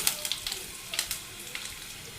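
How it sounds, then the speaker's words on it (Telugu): Chopped carrot pieces fry in hot tempering oil with spices, giving a soft steady sizzle broken by small crackling pops, fairly quiet and close, with no talking. "ఇప్పుడు కొంచెం సన్నగా ముక్కలుగా కట్ చేసి పెట్టుకున్న క్యారెట్ ముక్కలు వేసుకుందాం."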